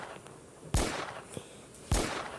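Two sharp, loud firecracker bangs about a second apart, each with a short echoing tail, with faint crackles between them.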